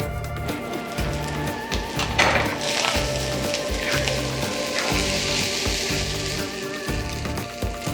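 Glutinous rice sizzles and crackles in a hot pan while a spatula scrapes and stirs in a steady, repeating rhythm, with background music underneath.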